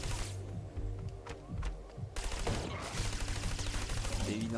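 Rapid bursts of gunfire from the video game Trials of the Blood Dragon rattle in quick succession, loudest in the second half, over a low background bed of game sound and music.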